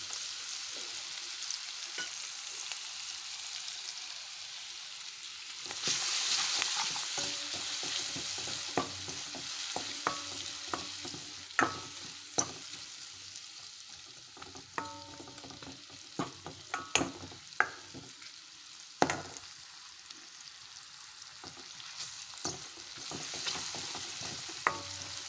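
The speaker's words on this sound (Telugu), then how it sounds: "ఇప్పుడు ఇది వేగింది పోపు. దీంట్లోకి ఉల్లిగడ్డలు వేసానండి" Chopped onions sautéing in a spice tempering for fenugreek-leaf sambar, a soft steady sizzle broken by frequent spatula scrapes and clicks against the pan, close and fairly quiet.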